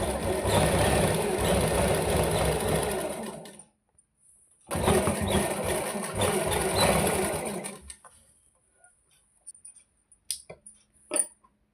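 A sewing machine runs close and loud, stitching salwar fabric in two long steady runs separated by a brief pause. A few light clicks and handling knocks follow once it stops.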